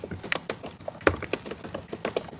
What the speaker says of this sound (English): somebody has some typing skill